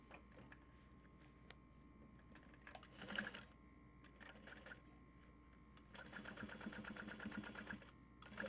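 Sewing machine runs in short bursts of rapid mechanical stitching while sewing a zippered tote bag, with clicks and pauses between runs and a longer steady run near the end, close and fairly quiet.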